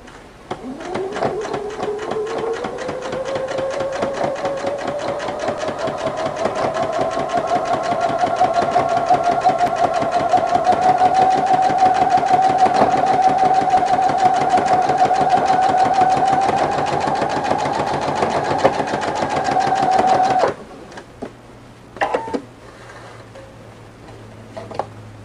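A Husqvarna Viking sewing machine with a ruffler attachment runs in a long, steady burst of rapid mechanical ticking that stops abruptly near the end, leaving a quiet hum and a few soft clicks.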